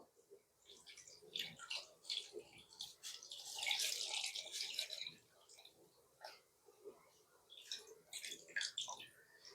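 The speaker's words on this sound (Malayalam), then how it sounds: "ഇനി അതിനകത്തോട്ട് നമുക്ക് ഈ പുളി വെള്ളം ഒഴിച്ചു കൊടുക്കുക" Tamarind water poured over peeled tomatoes for a rasam, close and quiet, with soft splashing and squishing bursts that come and go.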